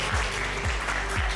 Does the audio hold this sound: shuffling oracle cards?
no